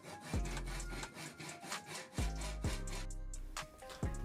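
Hand saw cutting a small wooden strip, with several quick rasping strokes in an uneven rhythm, close and clear, with no talking.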